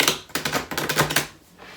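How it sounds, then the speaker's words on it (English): Tarot cards are shuffled in a rapid flurry of close, crisp riffling clicks, with a brief pause mid-way before the sound tapers off, no voices. "Why can't I shuffle like this?"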